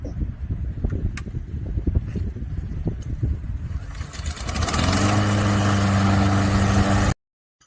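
A lawnmower engine is pulled with a few rustling tugs and catches on the first pull, then settles into a steady, loud, close running drone until it cuts off abruptly.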